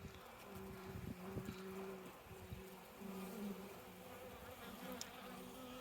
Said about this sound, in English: there's a few bees in there, but not a lot